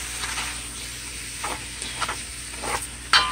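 Chicken pieces browning in a soup pot give off a steady, moderately loud sizzle, broken by a few soft stirring scrapes and a sharper utensil knock near the end, with no talking.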